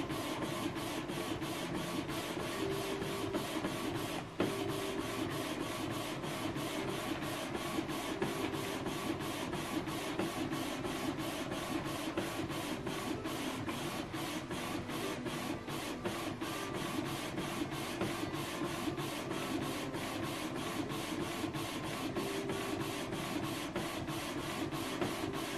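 A Canon TS5051 inkjet printer prints a photo, giving off a steady, rapid mechanical buzzing and rasping of the print head shuttling back and forth, with one brief clunk early on and no talking.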